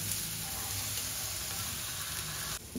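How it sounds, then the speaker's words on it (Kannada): Crushed ginger and garlic frying in a pan, a steady close hiss and crackle of sizzling oil, continuous and faint, with a brief clatter near the end. "ಜಜ್ಜಿಟ್ಕೊಂಡಿರೋಂಥ ಶುಂಠಿ ಮತ್ತು ಬೆಳ್ಳುಳ್ಳಿ ಕೂಡ ಹಾಕ್ತಾಯಿದ್ದೀನಿ. ಇವಾಗ ಇದು ಚೆನ್ನಾಗಿ ಫ್ರೈ ಆಗಲಿ."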